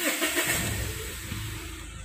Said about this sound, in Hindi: गाड़ी को न्यूट्रल कर लेते हैं और स्टार्ट करता हूँ।